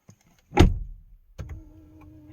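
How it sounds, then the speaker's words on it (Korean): A Hyundai Grandeur IG's electric steering column whirs as it motors upward after the door thuds shut, a soft mechanical hum following the close, near and alone. "문을 닫으니까 금방 보셨어요? 핸들이 위로 올라왔습니다."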